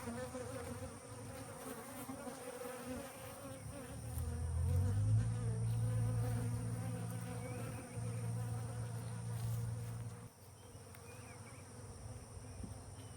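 A package of Southern Italian honey bees buzzes in a steady, close drone throughout, swelling louder and deeper for a few seconds in the middle before settling back.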